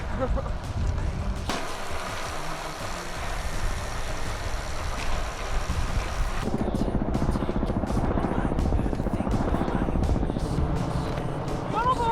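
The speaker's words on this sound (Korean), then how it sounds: "지금 헬리콥터가 떴습니다." A helicopter flies overhead on a cold winter day beside a riverside bike path, its steady rotor thrum growing louder and choppier while someone talks over it.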